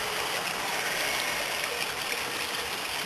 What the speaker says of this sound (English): And here's the darling little river.